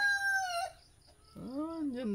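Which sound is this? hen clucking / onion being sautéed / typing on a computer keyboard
hen clucking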